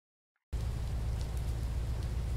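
Rain in the video game Fishing: North Atlantic starts abruptly after half a second of silence, then holds as a dense, steady wash of rainfall with a low rumbling undertone and scattered faint drips.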